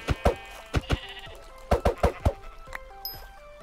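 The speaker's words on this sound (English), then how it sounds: "There's a sheep there." Sheep bleating in the video game Minecraft, a run of short bleats in quick clusters, fairly close and clear, with a couple of fainter calls and small game sounds near the end.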